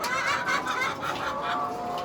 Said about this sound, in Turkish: Her yer tavuk ya.